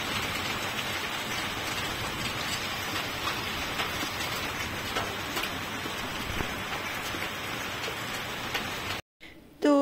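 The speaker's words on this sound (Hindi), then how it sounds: "जो ओले हैं वो लगातार तेज होते जा रहे हैं" Heavy hail pelts down during an evening storm, a dense continuous patter of hailstones striking surfaces, steady throughout before a brief cut near the end.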